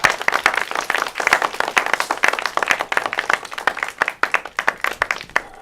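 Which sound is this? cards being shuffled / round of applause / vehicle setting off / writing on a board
round of applause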